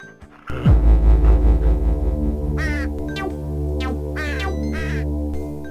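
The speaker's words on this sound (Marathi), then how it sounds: "शेरूने कावळ्याला पळवून लावले." Cartoon crow cawing in several short harsh bursts over a steady musical backing, the calls spaced irregularly in the second half.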